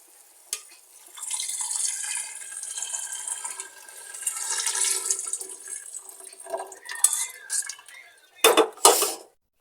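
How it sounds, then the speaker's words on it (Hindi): Strained chicken stock is poured into biryani gravy in a pot, a continuous liquid rush with clinks of metal cookware, ending in a few sharp knocks against the pan. "अब हम इसमें जो यखनी का पानी है वो डाल देंगे छान के।"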